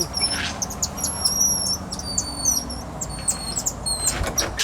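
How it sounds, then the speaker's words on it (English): Many budgies in a zoo aviary chirp and twitter in quick, high bursts, a busy overlapping chatter close by with some faint rustling beneath. "There's an aviary area for budgies, which is a little colorful bird native to Australia."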